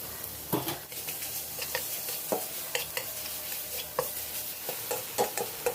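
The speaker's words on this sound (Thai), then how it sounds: "เราก็เอาหมูสับอะค่ะ ลงไปผัดให้สุกนะคะ" Minced pork stir-fried in a pan for Thai dry holy basil stir-fry, a steady sizzle broken by repeated scraping and clacking strokes of a spatula, close and alone with no talk.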